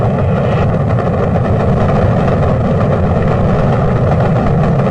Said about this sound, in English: Liftoff, we have a liftoff